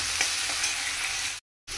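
Potatoes fry with black cumin and green chilli in plenty of oil, a steady broad sizzle with faint stirring scrapes, cut off by a short dropout near the end before resuming.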